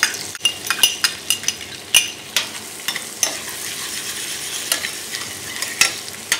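Butter and finely chopped shallots cooking in a pan for a lemon sauce: a steady close sizzle broken by frequent sharp clinks and scrapes of a utensil stirring against the pan.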